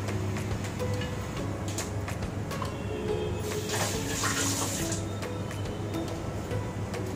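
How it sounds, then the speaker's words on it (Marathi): Hot water is poured steadily into a pan of chicken sukka cooking on a gas stove, making a continuous rushing splash that swells briefly partway through. "आपण त्याच्यामध्ये थोडं गरम पाणी घालूया."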